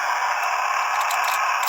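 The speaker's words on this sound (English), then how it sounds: "And third noise is the drill" Drill sound effect from a Transformers Energon Optimus Prime toy, a steady electronic whir with bright, hissy buzzing that runs unbroken at an even level for under two seconds with no talking.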